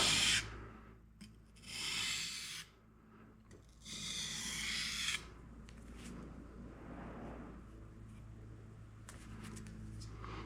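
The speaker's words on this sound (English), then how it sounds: "I'm barely dragging the blade across" A katana blade is drawn lightly across a whetstone to remove a burr, giving soft, close rasping strokes in a few separate passes, then fainter rubbing over a low steady hum.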